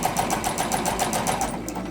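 A sewing machine runs steadily, stitching a straight quarter-inch seam along the fabric edge of a selvage edge zipper pouch, with a fast, even mechanical whir and rhythmic needle ticking up close.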